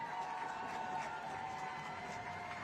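Bishop England fans cheer at a Friday night high school football game against Porter-Gaud, a steady, faint wash of crowd noise filling the stadium.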